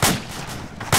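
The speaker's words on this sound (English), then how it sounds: "I just got shot." Gunfire in the military video game Arma 2, with one loud shot striking the player at the start and a second sharp, close blast at the end, separated by a steady, lower rumble.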